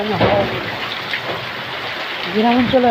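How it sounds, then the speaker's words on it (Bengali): Continuous rain hiss in Uttara, Dhaka runs throughout, with a person talking over it at the start and again near the end. "ঢাকা উত্তরায় বৃষ্টি হচ্ছে, ঢাকা উত্তরায় বৃষ্টি হচ্ছে।"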